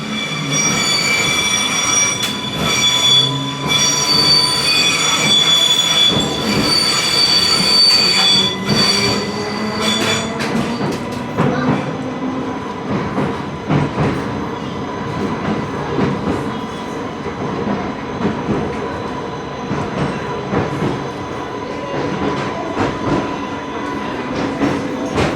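A Class 484 train on the Isle of Wight's Island Line pulls into Ryde Pierhead, with loud sustained wheel squeal and steady rail rumble close by, and the tones shifting as it slows.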